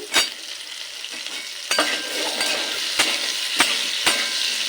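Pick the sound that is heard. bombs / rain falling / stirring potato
stirring potato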